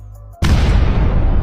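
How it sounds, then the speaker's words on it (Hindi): A firecracker bursts inside a pipe in a cartoon, one sudden loud blast that cuts off a quieter tone and then rumbles on with a dense, crackling roar to the end. "कुत्ता उसके पाइप में पटाखा डाल देता"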